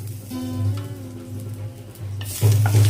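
Ginger paste stirred into hot oil with tempering spices for dal shukto brings a low, bubbling sizzle with scraping stirs, and then a louder burst of hissing near the end as the paste hits the pan, with no voices.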